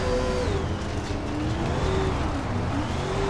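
A dirt late model race car from the SRX game roars at steady throttle on the Diamond Grove dirt oval, its engine note loud and continuous with slight pitch rises and falls through the corners, alone without talk.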